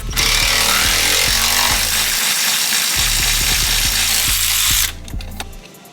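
A ratchet turns a 17mm ball joint nut on a 2021 Subaru WRX, rapid metallic clicking in two quick bursts before falling silent, close and loud.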